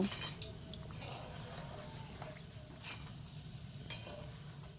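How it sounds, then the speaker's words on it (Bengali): Angul goja sweets fry in oil with a quiet, steady sizzle and bubbling, faint and even, with occasional light clinks of a utensil stirring. "বাকি গজাগুলো ঠিক একইভাবেই ভেজে নিচ্ছি"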